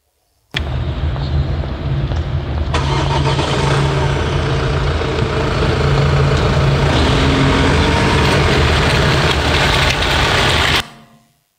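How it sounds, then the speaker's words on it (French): A combustion-engine car reverses slowly while manoeuvring at walking pace, its steady low engine hum loud and close, rising slightly partway through and continuing without a break. "il y a un véhicule thermique, donc qui fait une marche arrière, donc des manœuvres"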